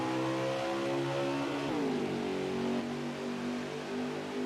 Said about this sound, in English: hammer down, back to green, going to 1 and 2, Rick